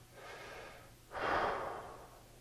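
Slow, deep breaths taken during a mindfulness exercise, a soft inhale followed by a louder, fuller exhale, close and unaccompanied.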